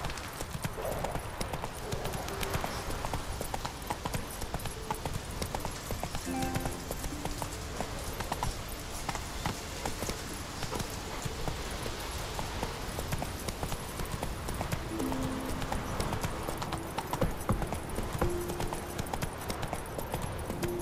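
Roach, the horse in The Witcher 3, galloping with continuous rhythmic hoofbeats on the ground, steady and close for the whole stretch, with faint game music underneath.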